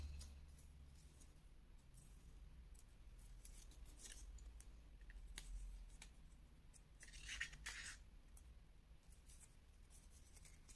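Scissors cut through a paper frame for a pop-up photo scrapbook page, making soft scattered snips and rasping strokes close by in a quiet room, with a brief cluster of crisper cuts near the end.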